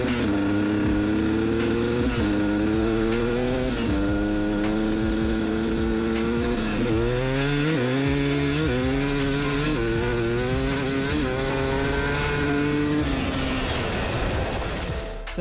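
A 2-stroke dirt bike engine runs near and loud at normal RPMs after warming up, a buzzy continuous drone whose pitch rises and dips repeatedly with throttle changes, with no talking.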